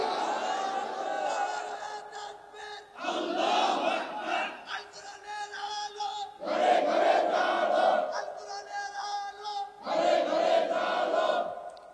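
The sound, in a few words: crowd shouting Allahu Akbar in response to the Nara-e-Takbir slogan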